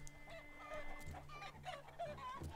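Chickens in the battle game Totally Accurate Battle Simulator cluck in short, scattered bursts at low volume, several birds overlapping over a faint background.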